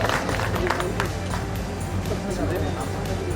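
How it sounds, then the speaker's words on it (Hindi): Crowd clapping for photographers at a World Photography Day ceremony in Bidasar, scattered rapid claps under a dense murmur of voices and background music. "जोरदार तालियां बजाएं अपने लिए।"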